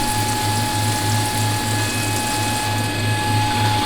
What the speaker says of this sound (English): Now we're going to use the same end mill as a boring bar.